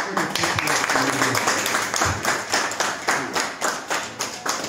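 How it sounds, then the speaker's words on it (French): A crowd at a general assembly applauds steadily, rhythmic clapping filling the space, with a voice partly audible underneath. "nous devons applaudir très fort"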